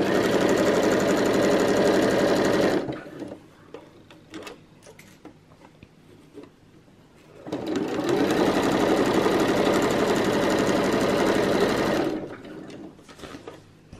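A sewing machine stitching a round Christmas tree skirt with a small presser foot runs in two long steady bursts of rapid whirring, separated by a quieter pause with light clicks and handling.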